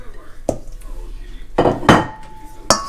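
A utensil stirs cold pasta salad in a bowl. Sharp scrapes and clinks strike at irregular moments, loud and close, with a quiet room behind them.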